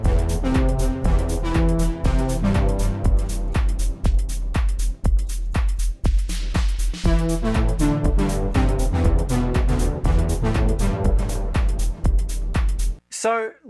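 Synth brass music played on a Melbourne Instruments Zelia synthesizer: a dense, loud track with punchy drum hits and layered brassy chords on a steady beat, running continuously before stopping abruptly near the end.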